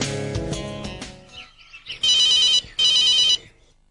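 A telephone rings twice in bright electronic bursts, each about half a second, following a brief stretch of music and clatter.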